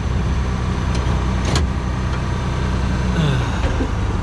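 A farm tractor engine pulls off in low four gear across a field, a steady loud rumble with a faint rising whine and a few brief clanks over the drone.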